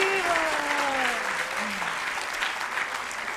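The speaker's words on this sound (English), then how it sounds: "I think GPT should get another round of applause." An audience at a Gita Jayanti event at Bhaktivedanta Manor gives a sustained round of applause, dense steady clapping filling the hall, with a voice speaking briefly over it.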